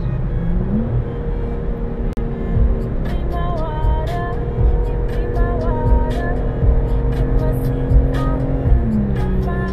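A car cruises in Saturday highway traffic heading to New Hampshire, its steady engine drone and road rumble continuous and close, with passing vehicle whooshes layered over the hum.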